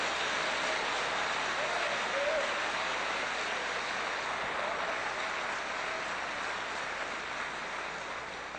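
Church congregation applauding during a sermon, a dense, continuous wash of clapping that holds steady and fades slightly toward the end.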